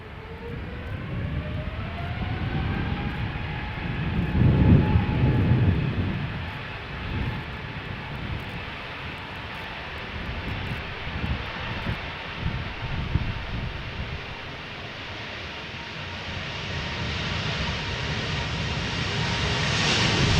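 A Boeing 777-300 at Schiphol's Polderbaan spools its jet engines up for takeoff, a rising whine climbing over a broad, loud rumbling roar that swells and holds for about twenty seconds, with no talking.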